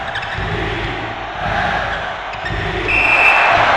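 A loud basketball arena crowd in NCAA March Madness 2001 on PS1, a continuous broad roar that swells in waves, with a brief high whistle-like tone near the end.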